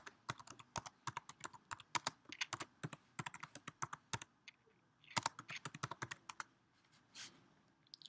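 Close, quiet typing on a computer keyboard: quick bursts of crisp key clicks in an uneven rhythm, a brief pause, then another flurry of keystrokes.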